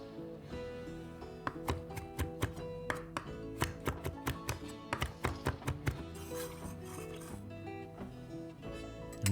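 A knife chops fresh marjoram leaves on a board for a German cabbage and smoked sausage soup, giving a quick series of crisp, evenly spaced taps under steady background music.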